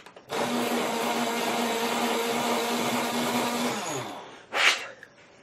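An electric sharpener whirs steadily on a Faber-Castell Polychromos colored pencil for about four seconds, a loud broadband grinding hum with a low tonal drone, winding down before a short scraping burst as the pencil is pulled out.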